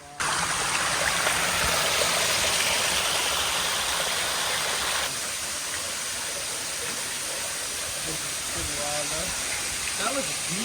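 A waterfall in the Philippines, fed through a funnel so it pours off cleanly, gives a loud, constant broadband rush that softens slightly midway, with a voice briefly audible near the end.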